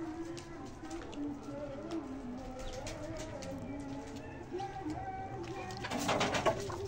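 Pigeons cooing around their cage, a steady low murmur of overlapping coos from nearby birds, with someone talking over them and a brief rustle of movement near the end.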